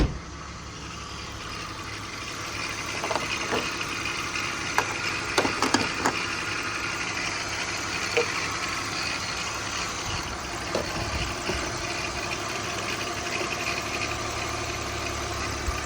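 A 2001 BMW 325i E46 wagon with about 249,500 miles idles steadily, a low continuous engine hum with a few faint mechanical clicks and knocks scattered over it, no talking.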